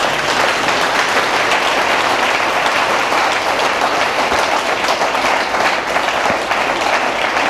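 A church congregation in Dimbokro, Côte d'Ivoire, applauds loudly and steadily, a dense wash of clapping that holds without pause from start to finish.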